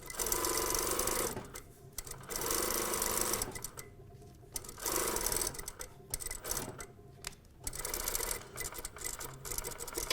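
A sewing machine stitches the side seam of a box top toile at a 1.2 cm seam allowance, running in several loud bursts separated by short pauses, with back tacking at the ends and no talk.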